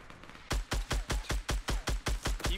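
Enemy gunfire in a video game: a steady, evenly spaced series of about ten loud, sharp shots, each a punchy broadband crack, sounding alone and close.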